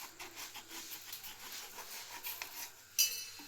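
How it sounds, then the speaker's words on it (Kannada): A knife slicing a ripe yellow mango for North Karnataka-style mango sikarani makes soft, close scraping strokes in a quick rhythm, ending with a sharp clink of the blade. "ಈ ರೀತಿ ಇವನ್ನ ಕಟ್ ಮಾಡ್ಕೋಬೇಕ್ರಿ"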